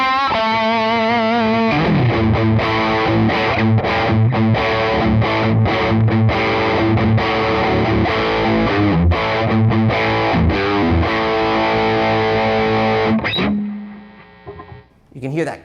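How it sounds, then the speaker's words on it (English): A Dean USA ML prototype electric guitar plays a gritty, heavily distorted riff through a Fender Supersonic 22 amp on its stock distortion, chords ringing loud and thick before cutting out abruptly near the end. "We're just using a Fender Supersonic 22 amp with the stock factory distortion on that amp"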